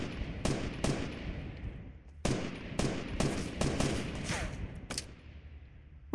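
Distant gunfire in a Fortnite Battle Royale solo match, faint scattered shots and short bursts spread at irregular intervals over a low background.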